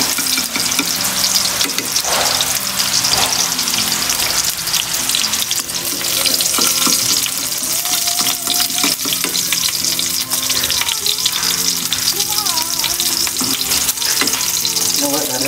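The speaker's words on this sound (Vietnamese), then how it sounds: "Khi nào hành này nó thấy vàng vàng rồi nó mình khử có mùi vị của nó thơm rồi" Onions frying in a pan until golden, a loud, dense, continuous sizzle heard close up, with occasional spoon stirs and faint background sounds.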